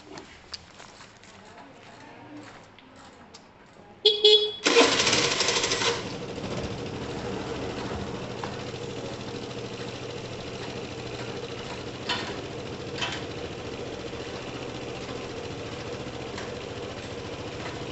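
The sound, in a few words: motorcycle engine starting and running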